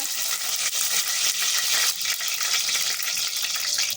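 Fenugreek seeds fry in a hot pressure cooker while a fish curry is started. The result is a constant, dense, hissing sizzle, close and loud throughout, with no voices.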